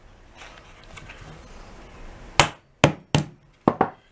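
Five sharp hammer blows strike a hollow plastic hardware kit box, two spaced apart and then three in quicker succession, loud and close after a quiet, faintly noisy stretch.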